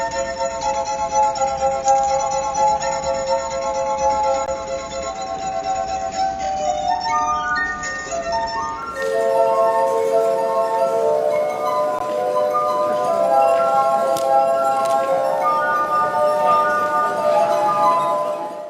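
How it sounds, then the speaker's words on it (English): A street performer plays a glass harp of 33 water-filled glasses with wet fingers, producing clear, sustained ringing tones that shift to a new chord partway through. "All you have to do is touch them with wet fingers and the glass harp will sound."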